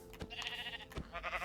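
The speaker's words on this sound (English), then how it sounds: "Here is a sheep." Two short, quiet bleats from a sheep in Minecraft, one after the other within about a second and a half, with soft clicks between them.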